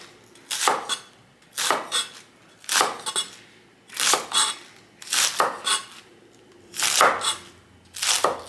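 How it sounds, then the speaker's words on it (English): A knife cuts cabbage into thin strips on a cutting board in about eight distinct bursts of rapid chopping, each roughly a second apart, close and crisp with quiet pauses between. "now the same thing with the cabbage, just gonna look for some thin strips"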